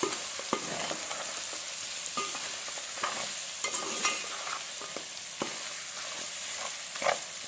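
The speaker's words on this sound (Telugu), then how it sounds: "ఆ మసాలా పొడి వేసి మొత్తం కలిపేటట్టు కలిపేసుకోండి." Mutton pieces are stirred with ground masala powder in a frying pan, with a soft sizzle under repeated scraping and clacking strokes of a spoon, close and fairly quiet.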